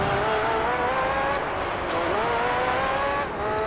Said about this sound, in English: go flat out in a race car that has as much acceleration as this one